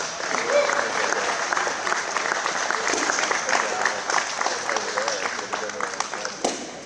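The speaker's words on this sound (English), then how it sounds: "Give him a round of applause" Spectators at a drywall and floor-covering installation competition applaud a competitor, a steady crowd of clapping mixed with cheering voices that holds for several seconds.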